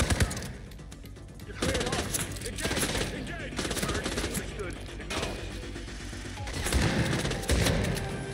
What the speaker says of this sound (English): God, stop shooting at me.